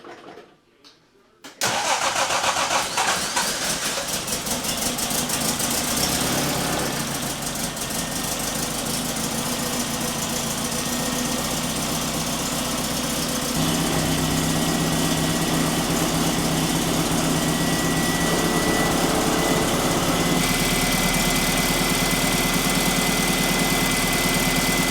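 A Triumph TR4 engine, just fitted with a Suzuki Denso alternator, cranks and catches after a short silence, then settles into a steady, loud idle close by for the rest of the time.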